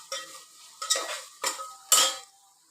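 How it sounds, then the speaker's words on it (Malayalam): A spoon stirs masala in a pan while it sautés for a masala vegetable pulav, four separate close metallic scrapes spaced about half a second apart, with a faint sizzle underneath and no voices. "എല്ലാം നല്ലപോലെ വഴറ്റിയെടുക്കാം"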